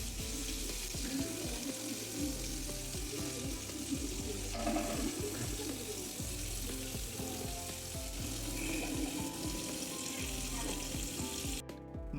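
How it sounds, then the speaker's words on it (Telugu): Fish marinated in spices frying in very hot oil, a steady, busy sizzle and crackle running throughout at close range with no one speaking. "తర్వాత చలచల కాగే నూనెలో వేపుకోవాలి బాగా"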